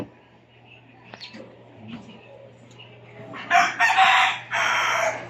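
Hen cackling after laying an egg, heard as loud repeated squawking bursts in the second half, near and close, following quieter scattered clucks and farmyard background.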